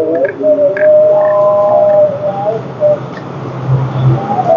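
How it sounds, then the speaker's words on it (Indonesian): A melodic Islamic call to prayer (azan) drifts in from a distant mosque, long wavering tones held over a hum of background noise. No one talks over it. "Sambil kita dengerin azan dulu hasil masjid"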